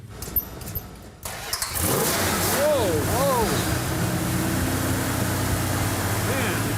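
A one-owner original 1968 Dodge Charger R/T cranks over and catches, then settles into a loud, steady idle close by, the motor rumbling continuously after a brief starter whir.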